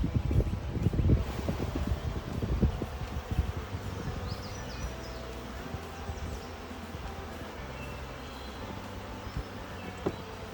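Honey bees buzz around hive boxes outdoors during a hive move, a low, continuous drone with occasional close passes near the microphone and some wind rumble early on.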